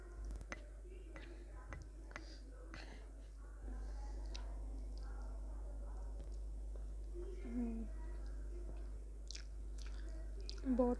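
Close, quiet chewing of kadai paneer with rice, roti, brinjal gravy and onion chilli, soft wet bites and mouth sounds in an irregular rhythm, with a faint steady hum beneath.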